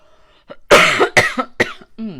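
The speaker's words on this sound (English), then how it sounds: "I gotta clear my throat." A close, loud throat-clearing cough, a few rough bursts in quick succession, alone.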